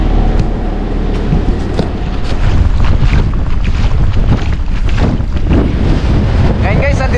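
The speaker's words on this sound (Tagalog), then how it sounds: "Sobrang lakas po ng hangin." Strong wind buffets a small fishing boat out at sea, roaring loudly and continuously against the microphone with splashing water and engine rumble underneath, while a voice shouts briefly.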